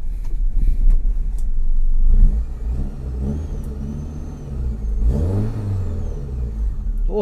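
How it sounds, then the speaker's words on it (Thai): A used sedan's engine running after starting, a loud rumbling idle that revs up briefly at first, then settles to a steady hum, with a later swell. "โอ้คันนี้สตาร์ทติดครับทุกคน"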